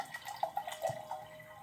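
Water trickles into a cup in short, faint drips and splashes, heard alone at close range.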